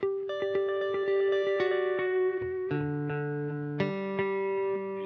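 Sustained electric guitar notes ring out through a delay effect, repeating echoes trailing each one, layered chords held and sliding between pitches.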